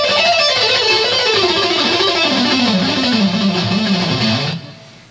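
A guitarist picks a fast descending scale on a distorted electric guitar with downstrokes, a continuous run of notes that cuts off abruptly near the end.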